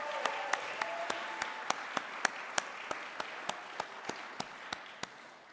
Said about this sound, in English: let's give Fernanda another round of applause here.